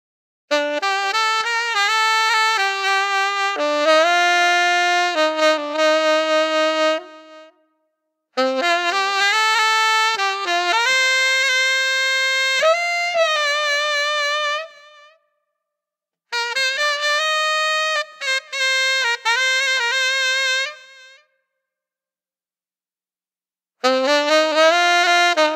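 Saxophone run through a Line 6 Helix with a delay effect, playing long phrases of ballad-style melody separated by silent gaps, echoing tails trailing each line, loud and up front with no voices.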